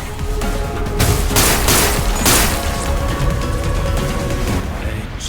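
Gunfire in the video game Limbus Company: a loud, dense burst of rapid shots and booming impacts rolling over several seconds, with overlapping blasts and no clear pauses.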